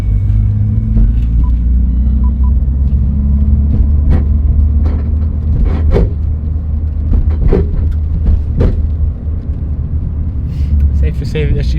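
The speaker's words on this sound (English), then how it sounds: "let's go drive it a little bit" Car driven just after a welded exhaust repair, with a loud, steady low engine rumble throughout and occasional thumps and rattles. People talk over it.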